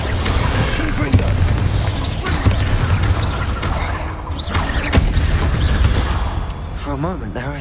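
A Confringo blasting spell goes off in the Hogwarts Legacy video game, with dense repeated booming bursts and mechanical game effects over a loud, continuous sound bed, and a voice audible in the mix.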